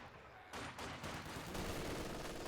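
An MG42 machine gun fires in the Company of Heroes 2 strategy game, a faint, dense rattle of several short bursts running continuously through the clip.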